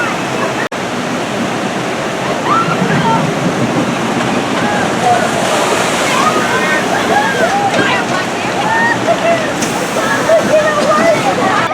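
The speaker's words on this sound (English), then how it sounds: "And Viking Voyager is a water flume ride." Broad, continuous rush of water on the Viking Voyager flume ride at the Worlds of Fun amusement park in Kansas City, Missouri, loud and steady for the whole stretch.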